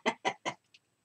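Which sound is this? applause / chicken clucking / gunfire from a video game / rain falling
chicken clucking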